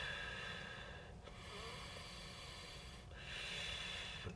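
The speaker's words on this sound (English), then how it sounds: "A few breaths." Slow, deliberate breathing during a guided meditation, two long drawn breaths heard close and soft, with a quiet pause between them and no talk.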